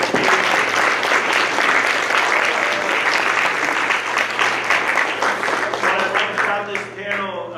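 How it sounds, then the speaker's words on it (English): A panel audience at a leadership academy coaches session breaks into a loud, sustained round of applause, dense clapping filling the room for several seconds before thinning slightly toward the end. "I'd like to give one more round of applause to our panel"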